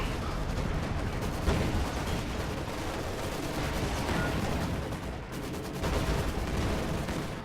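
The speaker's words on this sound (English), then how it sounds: "what it's doing is just firing long range and taking out all these T-34s from behind" Panther tank and artillery fire in Company of Heroes 2 on a battlefield against T-34s, a continuous dense wash of gunfire and booms with sharper reports punctuating it, no clear pauses.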